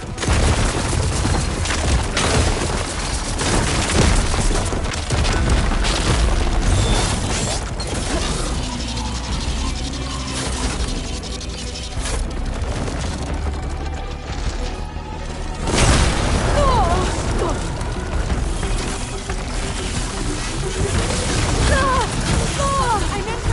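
Heavy booms, crashes and bursts of ballista fire pound continuously in a Horizon video game battle against a giant worm-like machine, with a dense, loud rumbling low end and a sharp new blast near the middle.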